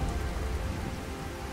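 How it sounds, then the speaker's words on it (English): Heavy rain falls in Fallout 4 as a dense, even hiss of drops striking surfaces, close and continuous with no voices. "And the rain is picking up, so I can't hear them coming."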